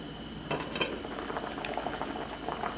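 A pot of tomatillos simmering for salsa verde gives off soft bubbling and popping, close and low in level, with a few faint clinks as the contents shift.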